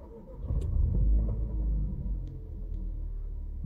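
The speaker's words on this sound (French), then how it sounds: "le moteur n'est pas en route, je vais le mettre en route" A Dacia Duster's engine catches and settles into a steady low rumbling idle, heard close from inside the car, with a swell of rumble early on before it evens out.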